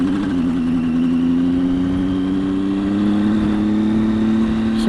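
A Triumph Tiger 800 XCx motorcycle engine pulls away on an Arizona road, a steady mid-pitched drone that rises slightly as it rides off, loud and close the whole time with no talk.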